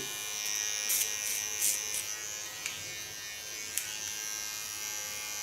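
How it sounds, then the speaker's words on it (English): A close electric hair clipper gives off a steady, thin, high-pitched buzz throughout, with a few brief clicks and louder touches as it works on the hair. "This is the latest clipper of Johanna."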